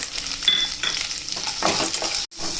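Onion, green chili, ginger, garlic and a handful of peanuts frying in hot oil in a pan, a close steady sizzle with stirring scrapes, briefly cutting out near the end.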